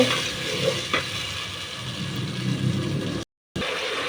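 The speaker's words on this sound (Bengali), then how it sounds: "মশলা দিয়ে দিলাম, এখন সুন্দর করে কষিয়ে নেব।" Spices being sautéed and stirred in a pan for a meat curry, a soft steady sizzle with scraping stirs, one sharper clink near the start and a brief dropout toward the end.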